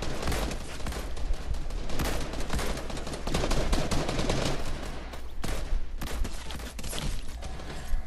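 Rapid bursts of gunfire in the video game Fortnite, dense and continuous across the clip, with loud overlapping shots and no break in the barrage.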